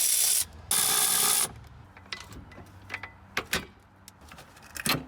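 Ratchet working on the transmission mounts under a BMW E36 318ti drift car: a few short, sharp ratcheting bursts up front, then scattered clicks and clanks of tools and metal with quiet pauses between them.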